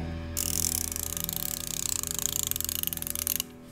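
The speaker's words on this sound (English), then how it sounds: "And the ratcheting system is very close. You can hear the difference. This is the Craftsman." A Craftsman ratchet clicks in a fast, even run of sharp metallic ticks lasting about three seconds, close and clear with no talk, then stops abruptly.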